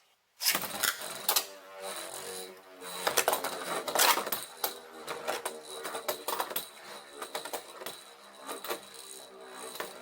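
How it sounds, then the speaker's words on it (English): A plastic HMS Gaia Dragoon Beyblade spins across the rails of a cheap metal-and-plastic arena, rattling and clattering in fast irregular bursts of clicks and knocks, close and fairly loud, running steadily after launch. "I'm going to spin this HMS Gaia Dragoon just to see how it behaves"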